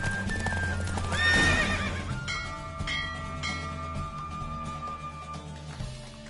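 A horse gallops in a race in The Witcher video game, a loud steady clip-clop of hooves with a whinny, bell-like chimes and a tonal music bed running throughout.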